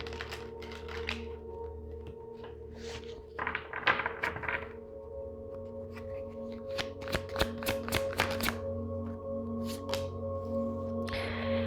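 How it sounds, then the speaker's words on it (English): A deck of new tarot cards is shuffled by hand in a quiet room, riffling bursts and soft taps repeated several times, close and clear over a faint steady hum. "So I'll just go ahead and shuffle these a couple of times here"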